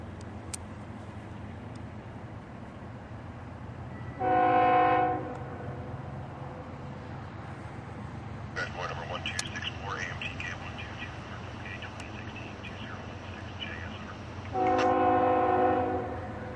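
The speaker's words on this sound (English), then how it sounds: "we're gonna have a train going uphill." Low rumble of a Union Pacific train laboring uphill, with two loud horn blasts several seconds apart and a screeching of wheels or brakes between them.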